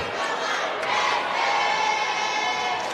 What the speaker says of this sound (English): you can kind of hear a buzz right now in the crowd